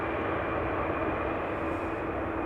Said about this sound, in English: Air Europa taxiing to the gate still